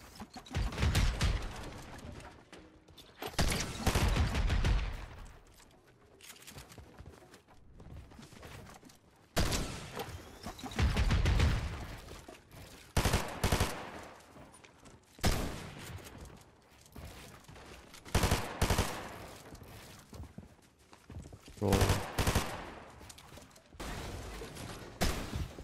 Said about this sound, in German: so verfehle ich den Pump-Schuss